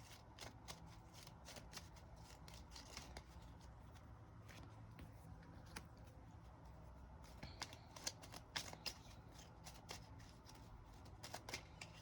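Tarot cards are shuffled over and over in a quiet indoor setting, a soft close-up stream of fluttering riffles and light taps, the deck handled continuously with no talking.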